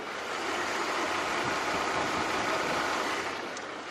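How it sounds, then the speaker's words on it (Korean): A Mercedes-Benz V6 petrol engine idles smoothly and quietly, a steady, even hum held close with no voices over it. "벤츠의 V6 휘발유 엔진을 사용을 합니다"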